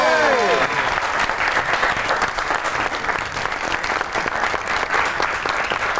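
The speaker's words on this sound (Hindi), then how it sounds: "तो आपकी बहुत सी तालियों में the one and only very talented Wasim Abbas." Studio audience at a comedy talk show claps steadily and loudly throughout, a dense wash of applause following a brief voice at the start.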